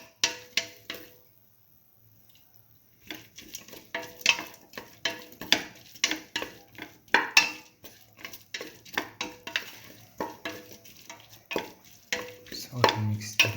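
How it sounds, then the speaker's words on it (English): A salted tomato mixture for a split mung bean stew is sautéed and stirred in a pot, with a steady run of scraping clinks from a utensil against the pan and a soft sizzle underneath after a brief quiet pause. "Salt and mix thoroughly. Keep on sauteing."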